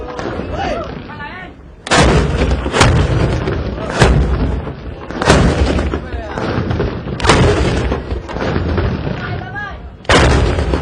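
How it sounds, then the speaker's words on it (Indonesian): Carbide cannons firing in Pontianak on the Kapuas river bank, a series of loud booming blasts, about six in irregular succession, each a sharp thunderous report with a rolling tail, with crowd voices in the background between shots. "Suara meriam karbit pun menggelegar."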